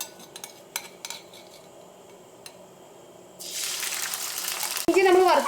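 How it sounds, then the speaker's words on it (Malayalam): Ginger dropped into hot oil in a pan for ginger pickle: after quiet clinks, a sudden loud, steady sizzle bursts up and keeps crackling to the end, with a voice briefly over the start. "ഈ ചൂടായ എണ്ണയിലേക്ക് നമുക്ക് ഇഞ്ചി ചേർക്കാം"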